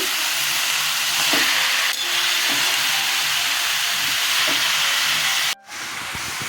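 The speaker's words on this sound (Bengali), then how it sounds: "জিরে মুড়ি ফোড়নে দিয়েছি" Cumin seeds sizzle in hot oil while tempering for a cabbage dish, a steady, close hiss and crackle that holds evenly for several seconds before a brief drop near the end.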